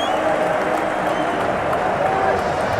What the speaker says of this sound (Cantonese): 阿蕭接受球迷嘅歡呼啊！